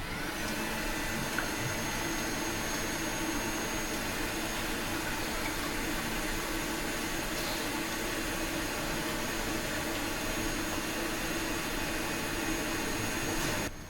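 Stand mixer whisking eggs and sugar on full power, a steady continuous whirring drone that runs unbroken for the whole stretch, moderately loud with no voices.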